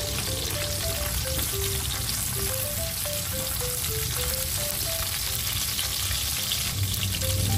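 Onions and garlic sauté in a hot pan with a steady, close sizzle and crackle that runs unbroken and fairly loud throughout.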